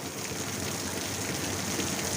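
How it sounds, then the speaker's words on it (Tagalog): Heavy rain pours down in a dense, steady roar, close and loud with no pauses. "Oh, biglang lumakas ang ulan, guys."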